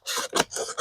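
Scissors trim the edge of cross-stitch fabric in four quick, close rasping cuts, each short and scratchy, with no voice over them.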